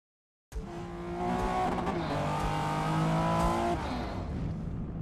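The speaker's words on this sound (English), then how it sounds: "This car is loud." Loud race car engine in Gran Turismo 7, a sustained roaring drone that rises in pitch and holds high, steady and close, with no talk over it.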